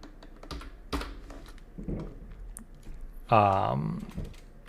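Scattered keystrokes clack on a computer keyboard while a text label is edited in trading chart software, with a brief burst of speech partway through.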